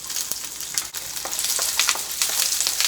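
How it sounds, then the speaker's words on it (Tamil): Onions sautéing in hot oil with mustard seeds, curry leaves and a dried red chilli in a pan for a Tamil poriyal, a steady close sizzle with crackling pops throughout. "வெங்காயம் கொஞ்சம் நல்லா வணங்கட்டுங்க."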